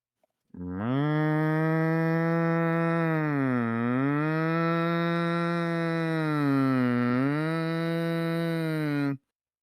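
A single long, loud cow moo plays as a sound effect during a tabletop role-playing session, sustained for nearly nine seconds with a wavering pitch, heard alone and close.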